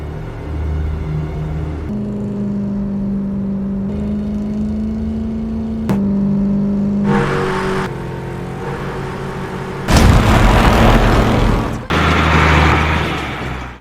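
Road traffic with engines humming and a vehicle surging past, the rumble swelling into a loud, broadband rush near the end as a truck overtakes a car closely, no voices.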